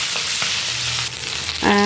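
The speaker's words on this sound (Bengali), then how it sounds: "প্রথমেই মাছের মাথাটিকে ভালোভাবে উল্টে পাল্টে দুদিক লাল করে ভেজে নিতে হবে।" A fish head frying in hot oil for a pumpkin curry, a loud, dense, continuous sizzle close by with a brief clatter near the end.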